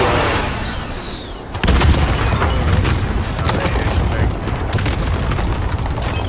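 Airstrike in Modern Warfare, a sudden heavy boom followed by rumbling blasts and crackling debris, loud and sustained, with players talking over it.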